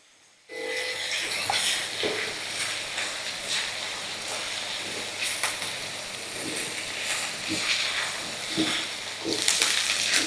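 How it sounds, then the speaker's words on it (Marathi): Onion sautés in tempering oil until golden for a traditional fresh-corn snack, giving a continuous close sizzling hiss dotted with occasional clicks from stirring. "कांदा आपण हा सोनेरी रंगावरती जरा परतवून घेऊया"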